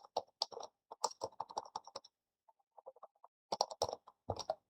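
Computer keyboard typing while entering fold labels in Valentina pattern-drafting software: bursts of quick, crisp keystrokes, a short pause with a few scattered taps, then another fast run of keys. No one speaks.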